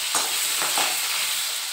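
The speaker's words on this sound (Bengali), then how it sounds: "আর এখন মাছের মাথাটাকে ভেজে নিচ্ছি।" A fish head fries in hot oil with a continuous close sizzle and a few soft bubbling surges over a couple of seconds, no voices.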